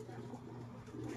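Racing pigeons arriving home at a loft after a 123 km training flight from Atimonan, Quezon, with soft pigeon cooing close by over a steady low hum, and faint voices in the background.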